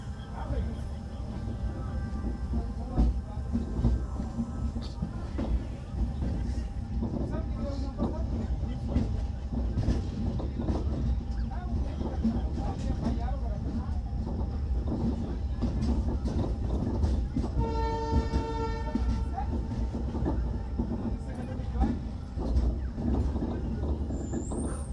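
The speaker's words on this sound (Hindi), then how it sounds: "हमारी ट्रेन निकल चुकी है" A passenger train rolls out of Akbarpur station with a continuous rumble and rhythmic wheel clatter throughout, a brief squealing tone partway through, and someone talking over it.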